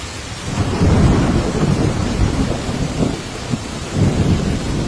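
A heavy rain falls in a steady, dense downpour, close and loud, with deep rolling thunder rumbling underneath throughout.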